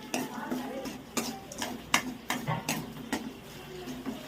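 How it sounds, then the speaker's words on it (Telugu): Tempering frying in a pan while being stirred for a Telugu ivy gourd and peanut chutney: repeated sharp metal spoon scrapes and taps against the pan over a steady low sizzle, close and fairly loud, with no talking. "తాలింపు అటు ఇటు ఇచ్చేస్తాను, వేగుతుంది."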